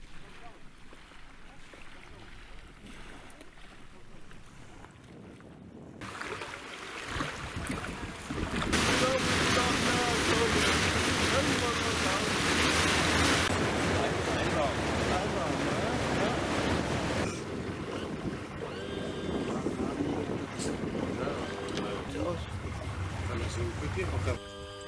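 A chartered boat runs on open water off Madagascar's remote mangrove coast, its motor, wind and water rushing loudly through the middle stretch, with a voice speaking at times.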